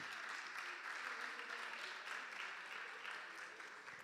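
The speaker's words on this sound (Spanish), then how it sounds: "Dele un aplauso al Señor." A church congregation applauds the Lord, giving a continuous wash of distant, even clapping throughout with no distinct voices on top.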